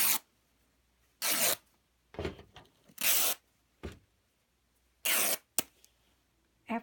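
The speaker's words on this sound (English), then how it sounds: "After ripping the strips" Fabric is torn by hand into long strips for a rag wreath, giving loud, close ripping bursts, some long and some brief, spaced apart by quiet pauses.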